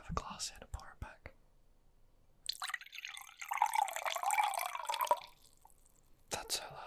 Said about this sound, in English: And I have a glass here to pour it back.